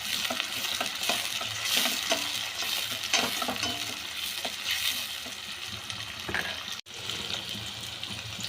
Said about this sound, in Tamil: நல்லா பொரிஞ்சதுக்கப்புறம் வெங்காயம், கருவேப்பிலை போட்டு நல்லா வதங்கணும்